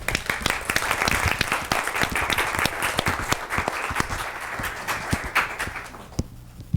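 An audience at a reference workshop breaks into steady applause to welcome a speaker, a dense patter of clapping that thins out and fades near the end.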